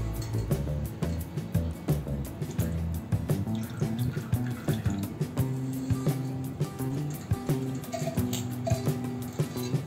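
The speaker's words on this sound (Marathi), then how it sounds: "आता या डाळीमधलं पाणी आपण पूर्ण काढून घेऊ" Water drains and splashes from soaked lentils for medu vada, with steady running and trickling plus frequent light clinks of a metal vessel, close and continuous with no talk.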